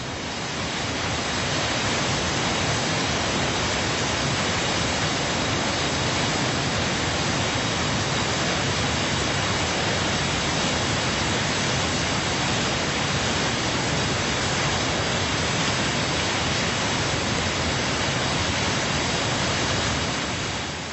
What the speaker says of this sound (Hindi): आगे चलकर दर्शन होते हैं धनछो झरने के